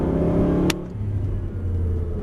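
An Aston Martin GT car on a driving circuit, its engine droning loud and close before a sharp click, then settling into a lower steady rumble as it pulls away with no talk.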